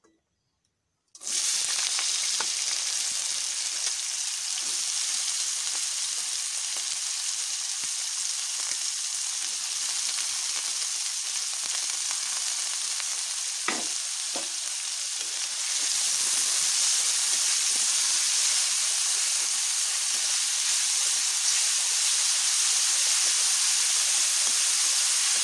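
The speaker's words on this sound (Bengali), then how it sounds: "গাজর আর বিন কড়াইটা ভালো করে ভেজে নেব।" Carrots and beans frying in a hot wok give off a steady, bright sizzle and hiss that runs unbroken for about 25 seconds, with a brief stir or scrape near the middle and the sizzle swelling slightly louder afterward.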